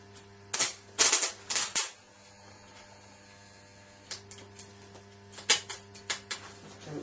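A high-voltage transformer arcs across a piece of metal tubing, sharp crackling snaps in short clusters separated by quiet stretches with a steady electrical hum underneath.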